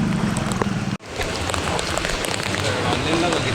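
Extreme heavy rain pours down in flooded Mumbai streets as a dense, steady hiss of rain. A brief dropout breaks it near the first second, and a voice talks faintly in the background.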